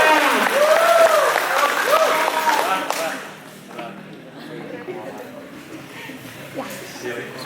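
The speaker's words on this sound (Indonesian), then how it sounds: "Tepuk tangan semuanya" Audience at a school student council (OSIS) candidate debate at SMKN 5 Pangalengan claps loudly in a dense burst for about three seconds, then the applause fades to scattered faint claps and room murmur.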